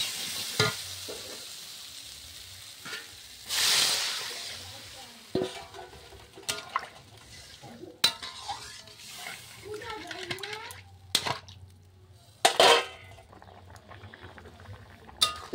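Water hits spiced potatoes in a hot pan with a burst of hissing, then a spoon scrapes and stirs in scattered clinks and sloshes, close by, with a voice speaking at moments.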